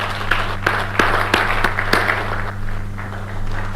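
Scattered hand claps from a summit audience, a sparse patter of applause over a steady low hum in a room.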